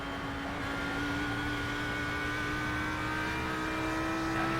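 A race car engine revs steadily at high pitch, droning continuously with a slight rise, in a sim racing game at Mount Panorama, no voices.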